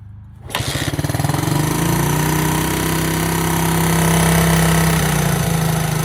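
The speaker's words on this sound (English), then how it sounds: "Let's give it another kick and see how it does." A 1977 Honda XL100 motorcycle is kick-started and its small single-cylinder engine catches and settles into a fast, steady, loud putter up close, with no voices.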